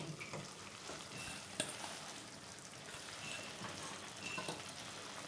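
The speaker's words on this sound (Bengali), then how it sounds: "ভালো করে নেড়ে মিশিয়ে দেবো এবার ভেজে রাখা সবজিগুলোও দিয়ে দিচ্ছি" In a pan, fried vegetables are stirred into cooking bathua greens, with a soft continuous sizzle under repeated scraping stirs and one sharper clink near the middle, fairly quiet and free of speech.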